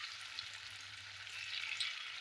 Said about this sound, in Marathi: सावकाश एक एक करून आपण तळून घ्यायचं आहे